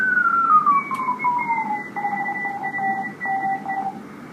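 Amateur radio receiver tuned to a contest on the band, with steady carrier-like tones and a slowly falling whistle over hissy static, fairly faint.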